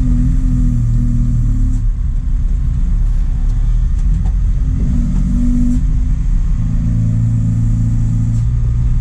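A truck engine rumbles and revs steadily while driving along a rural road in Colombia, a loud continuous low drone with gear changes and road noise throughout.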